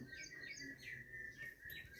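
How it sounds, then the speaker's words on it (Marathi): Small birds chirp and tweet repeatedly at a distance, faint high calls over a quiet background hum. "पक्ष्यांचं पाकिती चिवचिव आहे"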